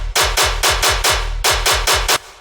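Unprocessed dubstep tear-out gun bass without its transient layer: a fast run of loud, gritty, evenly spaced shots with falling low-end sweeps, pausing once briefly before resuming, heard alone with nobody talking.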